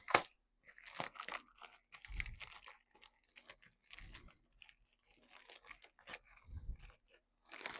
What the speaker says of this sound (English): So we're going to go ahead and just rip the bag open.